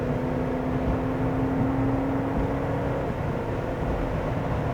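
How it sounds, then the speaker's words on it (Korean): Honda CR-V Hybrid accelerating hard to overtake on the road, a steady droning engine hum with a sustained tonal whine over constant road and wind noise, loud and continuous with no talking. "추월 가속을 해볼까요?"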